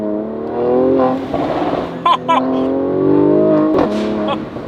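A Mercedes-AMG C43 Cabriolet revs hard inside a tunnel, a loud booming engine note swelling and falling with sharp crackles and pops between the rises, echoing off the walls, with a voice talking over it.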